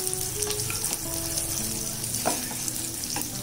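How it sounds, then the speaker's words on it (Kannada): Onions frying in a pan with a little cashew for shavige bath, a steady close sizzle and crackle with soft stirring scrapes, no voices. "ಸ್ವಲ್ಪ ಒಂದು 2 ನಿಮಿಷ ಚೆನ್ನಾಗಿ ಹುರ್ಕೋಬೇಕು ಈರುಳ್ಳಿನ"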